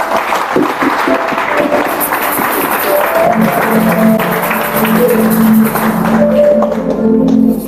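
Worshippers at a church retreat clap and cheer in praise, dense applause running throughout, joined midway by sustained voices and tones from the gathering, loud and close.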